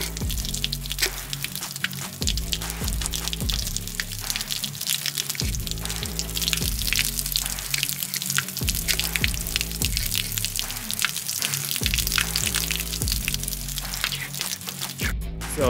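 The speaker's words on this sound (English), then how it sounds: "And we're dumping all the water" Water draining from a 65-gallon mobile pressure washer tank, a continuous splashing gush with pattering drips, steady and close, interrupted by occasional low thuds.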